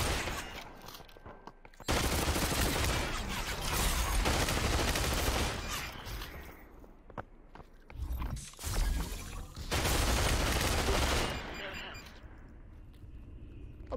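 Heavy bursts of gunfire aimed at the player in a multiplayer shooter game crackle loudly in long sustained volleys, broken by short quieter gaps, with players talking over the action.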